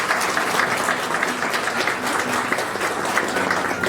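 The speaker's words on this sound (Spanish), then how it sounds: "Un fuerte aplauso, por favor." Audience applause at a Spanish-language broadcast event, steady dense clapping from a crowd holding at an even level throughout without letup.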